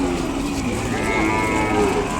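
A young bull calf, likely of the Ongole breed, lows at a busy cattle market in Kodada, giving one sustained, loud, close moo that fills the whole moment.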